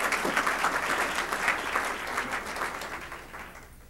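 Audience applause welcoming a guest speaker at a City Club luncheon talk on corrections, a steady dense clapping from a roomful of people that slowly fades toward the end.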